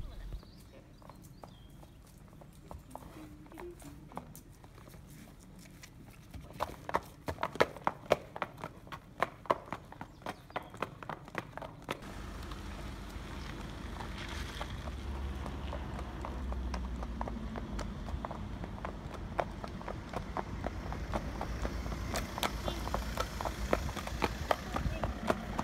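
Young horse's hooves clip-clopping along a road while ridden home, a steady walking rhythm of hoof strikes under wind noise and passing traffic rumble, with occasional talking.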